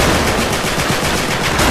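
Dense, continuous automatic gunfire in the Uncharted 3 multiplayer video game, a loud rapid rattle of shots layered into a steady barrage with no pauses and no talk.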